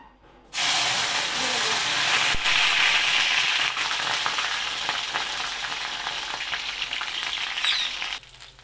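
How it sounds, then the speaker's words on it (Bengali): Okra (bhindi) fries in hot oil in a wok. A loud, dense hiss of frying bursts in suddenly and holds steady for several seconds, then stops abruptly. "দেখুন ভেন্ডিগুলো ভাজা হয়ে গেছে"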